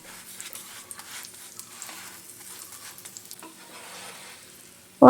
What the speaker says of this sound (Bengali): সাদা তেল দিয়ে খুব ভালো করে ঘুরিয়ে ঘুরিয়ে এপিঠ ওপিঠ দু পিঠই আমি ভেজে নেব।